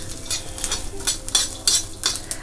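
Cumin and other ingredients sauté in a hot pan, a steady sizzle broken by repeated scraping stirs of a spoon, close and clear with no talking.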